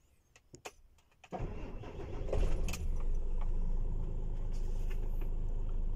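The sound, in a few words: car engine being started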